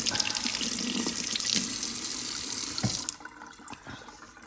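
Running tap water rinsing out part of a De'Longhi Stilosa EC260BK espresso machine in a sink, a steady splashing stream for about three seconds that then cuts off, leaving a few drips and small clinks.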